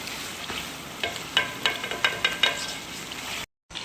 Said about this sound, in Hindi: इसको इस तरीके से भूनते हुए भी मुझे तकरीबन 12 से 15 मिनट हो चुके हैं